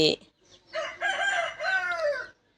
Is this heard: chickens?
yes